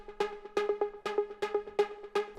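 Two interlocking synth arpeggio sequences from Serum 2 play the root note of an Afro house track, giving short plucky notes in a quick, bouncing, groove-driven rhythm, fairly quiet and with no talking.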